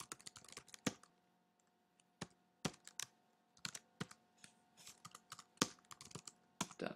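Irregular bursts of keyboard clicks, typing in quick clusters separated by short pauses, close and fairly quiet over a faint steady hum.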